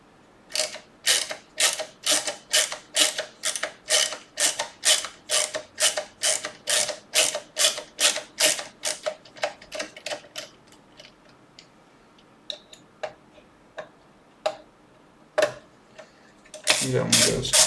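A small screwdriver works a tiny screw out of a computer case during an M.2, fan and cable install, giving a rapid run of close, crisp ratcheting clicks that thin into scattered ticks before a louder rustle at the end.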